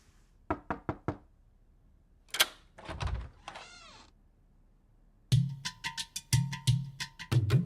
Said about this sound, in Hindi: बाहर मुनिया आया है, जाके दरवाजा खोल।